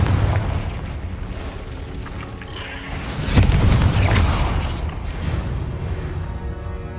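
Confringo fire spell blasts in Hogwarts Legacy, a sharp burst around the middle rising out of a steady mechanical rumble and creaking, followed by a rolling low roar that gradually fades.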